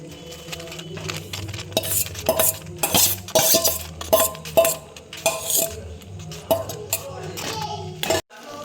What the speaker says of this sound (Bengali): চিনিটা গলে গেছে এবার নারকেলটা দিয়ে দিচ্ছি